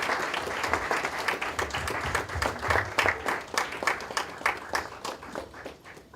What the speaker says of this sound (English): Please, can I see an applause?